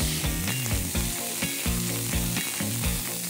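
Fish fries in a hot pan beside honey-and-harissa-glazed squash, sizzling steadily and loudly at close range with rhythmic crackling bursts.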